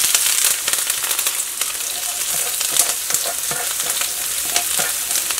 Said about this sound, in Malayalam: അപ്പോൾ നമ്മുടെ കടുക് പൊട്ടി തുടങ്ങിയിട്ടുണ്ട്.